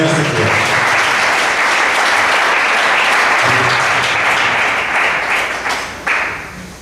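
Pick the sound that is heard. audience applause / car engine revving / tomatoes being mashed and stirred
audience applause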